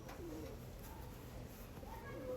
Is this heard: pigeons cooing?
yes